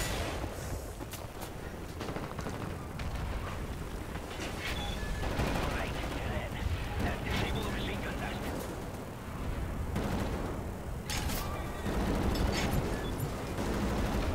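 Gunfire in a Wolfenstein video game, a dense ongoing barrage of rapid shots and bursts over a continuous rumbling mix, with faint talk underneath.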